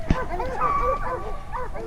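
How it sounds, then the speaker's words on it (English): Well-trained hounds on a black bear hunt bark and bay in overlapping, excited bursts as the quarry gets closer. Several dogs call out at once at moderate distance, rising yips and drawn-out howls running continuously through the stretch. "You can hear these dogs really start to light up as she gets closer."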